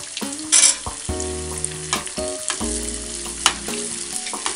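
Sausage banderillas coated in beer and flour batter fry in hot oil in a pan, giving a loud, close, crackling sizzle with bubbling pops and occasional utensil clinks, with no voices.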